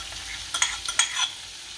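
Peanuts tipped into a frying pan and stirred while cooking sing bateka ni khichdi, a few quick scraping and rattling strokes with a light sizzle, close and brief, no talking.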